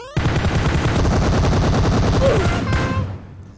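Sustained automatic gunfire in the mobile battle royale PUBG Mobile, loud and dense rapid shots in a steady stream for about three seconds before cutting off, with a faint voice briefly audible.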